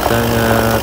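Old-model Yamaha NMAX scooter idling with a rough, noisy CVT, giving a steady close-up engine drone with a low, even hum and no talk over it.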